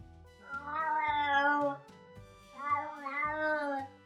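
A cat meowing twice up close, both long, drawn-out, tonal wails with a short pause between them, loud and clear with no other sounds.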